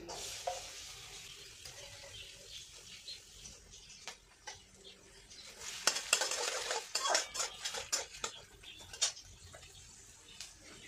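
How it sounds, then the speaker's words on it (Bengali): Onions tipped into hot mustard oil in a pan, a soft sizzle that swells as they hit the oil, then a cluster of clanks and scrapes from a spatula against the pan, fairly close, with no speech. "সর্ষের তেল, তেলটা গরম হয়ে গেছে, আমি এবার পেঁয়াজটা দিয়ে দিচ্ছি।"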